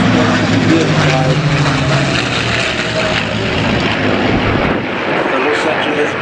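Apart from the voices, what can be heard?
vintage aircraft flying at Duxford Flying Legends air show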